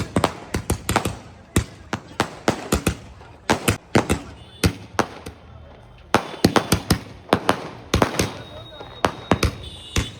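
Fireworks burst repeatedly during a village wedding procession in India, a dense run of sharp cracks and bangs at irregular intervals, some in quick clusters, fairly close, with faint crowd voices underneath.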